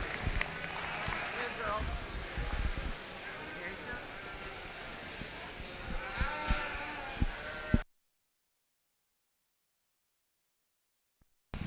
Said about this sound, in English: we have Class 115 Southdown Yearling Ewes in the ring.